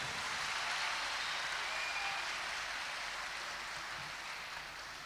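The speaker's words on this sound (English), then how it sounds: "Give them a big round of applause," Steady, dense applause from a crowd of schoolchildren at a live motivational event for SSC students, a continuous wash of clapping that stays level and fairly distant throughout with no talk over it.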